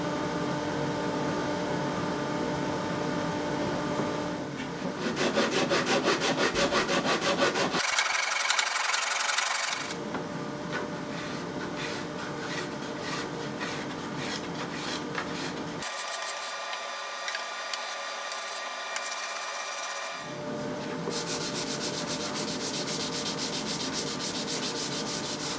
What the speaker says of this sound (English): On the other side I'm going to have to do more sanding and scraping.